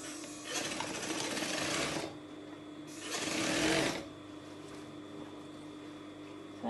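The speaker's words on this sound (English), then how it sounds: "So I'm just going to stitch" A sewing machine stitches a cold shoulder dress with ruffle sleeves in two loud, steady runs of a couple of seconds each, separated by a quieter pause with faint room hum.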